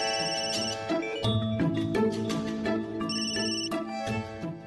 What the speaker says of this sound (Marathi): फोन वाजतोय ना?